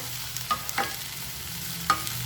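Okra stir-fried in a pan on high flame, a few spaced spoon scrapes and taps over a steady low hiss of cooking, close by.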